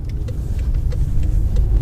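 A 2015 BMW M5 30 Jahre edition's engine with its exhaust valves opened runs steadily in a loud, close, continuous deep rumble, with no talk.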